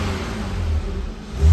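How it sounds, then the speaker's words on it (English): Nissan 300ZX engine revving close by in a garage during ignition timing work, a steady mid-pitched drone that swells louder toward the end. "when I rev the engine"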